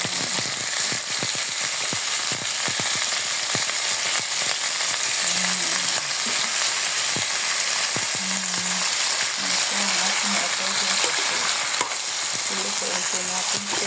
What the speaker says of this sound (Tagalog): ilalagay na po natin ang adobong pusit